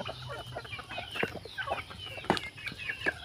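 Chickens clucking in a coop at feeding time, a busy run of short overlapping clucks and squawks from several birds, fairly close, with no talk.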